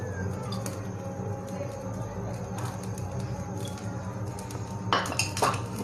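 A metal pan clanks and clatters on a kitchen stovetop as it's set down for frying egg and potato pakoras, with a few light clinks and two sharper, louder knocks near the end over a steady low hum.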